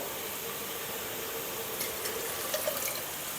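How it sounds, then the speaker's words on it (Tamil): Water from cooking beans is poured into a pot of bean curry as a steady, moderately quiet stream, with a few small splashes toward the end and no speech. "இந்த தண்ணியே ஊற்றி இதில் சேர்த்துங்கதா"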